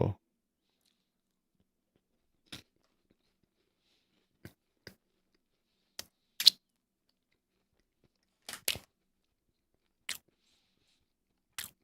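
Someone chews a flaky, crunchy cupcake-flavored pastry snack close to the microphone, with a few sharp, sparse crunches spaced irregularly between stretches of near silence.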